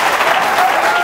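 A church congregation bursts into sustained, even applause, a full wash of many hands clapping close by.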